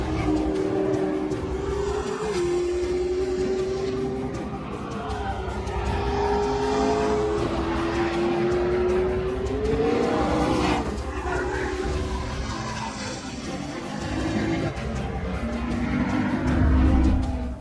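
McLaren P1 hybrid supercar engine droning loudly and continuously as the car drives. The pitch rises and falls through gear changes, with a sharper rev surge partway through and another toward the end.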